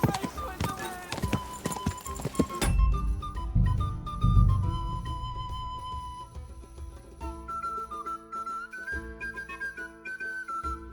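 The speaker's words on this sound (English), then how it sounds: "Let's really spur these horses on, eh?" Horses galloping in Kingdom Come: Deliverance II, a steady clip-clop of hooves on the ground running under a sweeping musical score, with a voice speaking over the ride.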